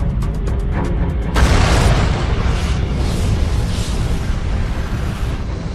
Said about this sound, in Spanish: Una estrella agonizante en la Vía Láctea implosiona y se convierte en supernova.